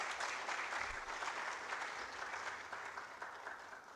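An audience at a community cleanup campaign launch gives a round of applause, continuous broadband clapping that stays even throughout and slowly eases, moderately distant and fairly soft.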